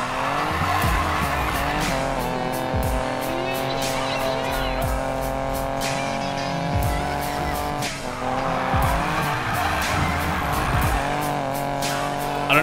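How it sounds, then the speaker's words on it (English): A game car in Need for Speed Payback revs hard at high speed, its engine droning and shifting pitch while tires repeatedly squeal and skid, loud and continuous throughout. "I don't know if the engine sounds are accurate,"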